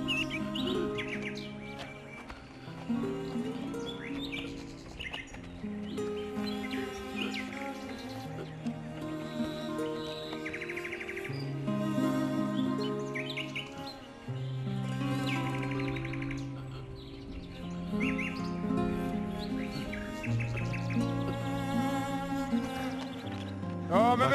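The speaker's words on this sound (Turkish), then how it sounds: "Aa, ne güzel bir kuş bu." A bird chirps and trills continuously nearby, bright repeated tweets layered into a busy, sustained song with no voices.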